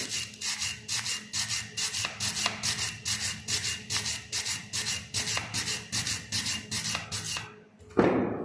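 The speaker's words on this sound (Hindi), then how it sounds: "वायर ब्रश की हेल्प से जो डस्ट और रस्ट है उसको क्लीन कर लेंगे" A wire brush scrubs dust and rust off a fresh weld in a welding shop, with rapid rhythmic back-and-forth rasping strokes, close and steady for about seven seconds before stopping with a brief clatter.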